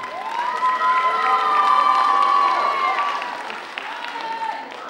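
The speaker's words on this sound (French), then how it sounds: "On applaudit bien fort." Audience at a 2019 singing contest final cheers, whistles and claps loudly for a contestant, a dense crowd noise that swells in the middle and then eases off, with voices shouting above it.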